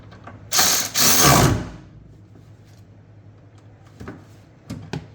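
A ratchet tightening a strut bolt on a 2017 Kia Soul front suspension: a loud burst of rapid clicking, a short pause, then more clicking, followed by a few faint clanks.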